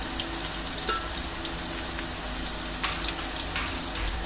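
Onion and spice masala frying in a pan for chicken mandi, a steady, close sizzle and crackle with occasional pops and faint stirring, no voices.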